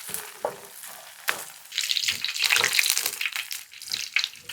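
Potato kebabs fry in masala and are turned with a ladle, giving sharp scraping clicks followed by a building, crackling sizzle close by.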